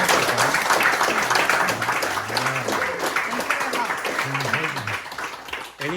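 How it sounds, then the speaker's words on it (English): Audience applause breaks out at a group participant gathering in Orlando, a dense steady wash of many hands clapping, with voices talking and calling out over it throughout. "Big round of applause."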